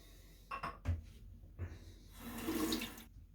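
Cold tap water splashes as a face is rinsed after shaving, soft intermittent splashes and handfuls of water, then a louder stretch of running flow, all fairly quiet and close.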